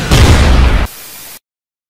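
A cartoon explosion sounds as a flying magical pony is shot down, one loud, close burst lasting under a second, then a faint fading tail and silence.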